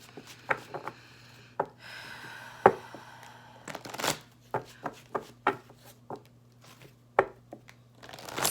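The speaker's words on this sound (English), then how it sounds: "I'm going to start out with my indigo deck here, and I'm going to pull three cards from this deck" An indigo oracle card deck is shuffled by hand: a series of sharp riffling snaps and softer papery shuffles in uneven bursts, close and fairly quiet over a faint steady hum, with no talking.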